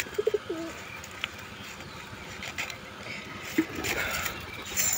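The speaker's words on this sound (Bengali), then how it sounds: "এই যে কবুতরটি," A pigeon coos softly a couple of times, close but faint, over quiet outdoor background noise with a few small knocks and rustles.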